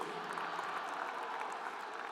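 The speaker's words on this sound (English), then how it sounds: "Big round of applause." A commencement ceremony audience applauds steadily for families and partners standing in the crowd; the dense clapping sounds fairly faint and distant throughout.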